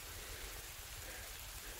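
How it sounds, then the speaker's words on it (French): Heavy rain pours down in a forest as a dense, constant hiss, with low rumbling patter close to the microphone and no voices. "il pleut extrêmement fort"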